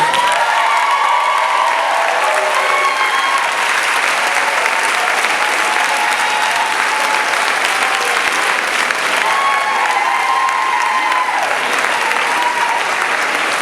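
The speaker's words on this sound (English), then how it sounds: "Let's all give a round of applause for Stanley Lewis." Sustained, loud applause from an audience at a school district convocation, a steady wash of clapping for over thirteen seconds with faint cheering and no break.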